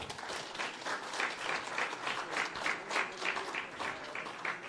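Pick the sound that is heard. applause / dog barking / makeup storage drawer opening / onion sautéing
applause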